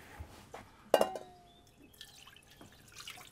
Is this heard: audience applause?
no